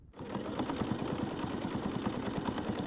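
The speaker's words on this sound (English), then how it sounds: "Now we'll sew them together with a 1 cm seam allowance." Sewing machine stitching a binding band onto a bodycon top with a 1 cm seam allowance, a steady rapid mechanical whirr with regular needle clatter running continuously at close range.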